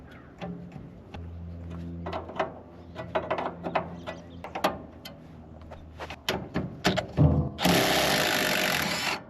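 Wrench working back and forth on a stuck nut on a 1960 Chevy Bel Air, giving a run of sharp metallic clicks and ratcheting knocks, near and fairly loud, ending in a burst of harsh broadband hiss; no talk.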